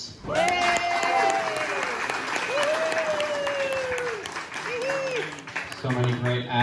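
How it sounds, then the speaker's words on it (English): Audience applause at a live music show, steady clapping from a crowd with loud whoops and cheers riding over it, continuing for several seconds before tapering toward the end. "Let's give a round of applause for the hosts."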